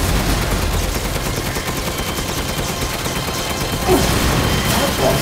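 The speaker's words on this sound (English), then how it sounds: "Keep shooting!" Sustained rapid gunfire in the PS5 video game Resident Evil Village on its hardest difficulty, Village of Shadows: a dense, loud, continuous rattle of shots with a few sharper cracks near the end.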